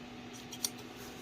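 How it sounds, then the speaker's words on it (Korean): A single quick snip of scissors cutting fabric while hemming trousers, faint and brief against a quiet room hum. "가위가 있어요."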